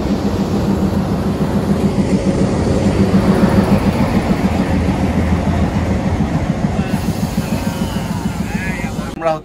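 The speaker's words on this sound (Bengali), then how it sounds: "আমরা হচ্ছে এই মহানন্দার জন্য ক্রসিং এ ছিলাম, তো ট্রেনও চলে আসছে" The Mahananda passenger train passes a level crossing in Bangladesh, a loud, continuous rumble with rhythmic wheel clatter on the rails rolling by close at hand.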